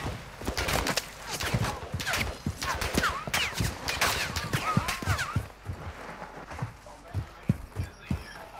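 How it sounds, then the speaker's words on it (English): Rapid Call of Duty gunfire crackles in dense bursts of shots, loud and close at first, then thinning to scattered single cracks, with voices talking over it throughout. "they're shooting at me"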